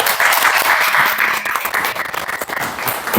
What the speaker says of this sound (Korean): 김거성 목사님을 따뜻한 박수로 맞아주시면 고맙겠습니다.